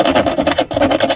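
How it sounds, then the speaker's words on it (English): A small hacksaw cleans up the edges of a hole cut in a boat's cockpit panel, giving quick, steady rasping strokes in a close, loud back-and-forth rhythm with no talking. "So now I'll just clean up the edges with a little hacksaw."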